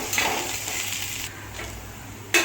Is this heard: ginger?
yes